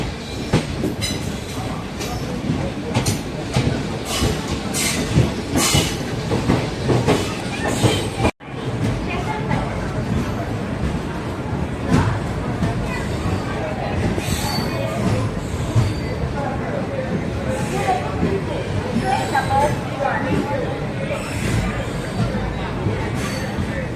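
Passenger train running from Tiruchendur to Tirunelveli, a steady loud rumble of wheels and carriages with rhythmic clatter and occasional squeal, heard from on board, continuous apart from a brief drop in level.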